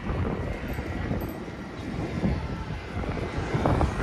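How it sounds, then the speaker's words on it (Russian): A low-flying airplane passes near an airport by a beach, its engine roar broad and steady with some wind buffeting the microphone, loud and sustained without speech. "тут рядом аэропорт, и вот так низко здесь самолеты пролетают."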